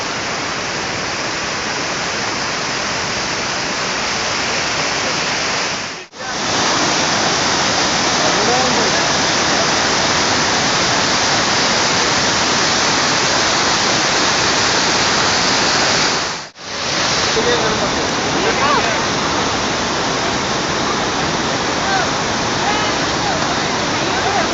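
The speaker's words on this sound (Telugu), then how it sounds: "చాపరాయి వాటర్ ఫాల్స్ రూమ్ నుంచి ముందుగా మేము ఇక్కడికే వెళ్ళాం." Chaparai waterfall in Araku Valley, water pouring over flat rocks, makes a loud, steady roar of rushing water close by. It continues without a break apart from two brief cuts, and no one speaks over it.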